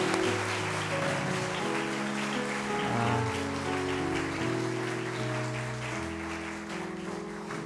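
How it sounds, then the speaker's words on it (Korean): Church congregation applauding, a steady wash of clapping that continues for several seconds under sustained music tones. "우리 한 번 더 큰 박수로 우리 격려하고 축복하겠습니다."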